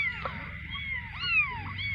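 Young kittens meowing close by in a village home in Chhattisgarh, several thin rising and falling cries overlapping over about two seconds against low background noise.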